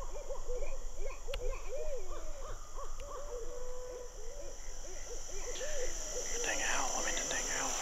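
An owl hoots repeatedly at night in Florida brim sedge during a turkey hunt, its rhythmic calls fairly close and clear over a constant drone of crickets and insects.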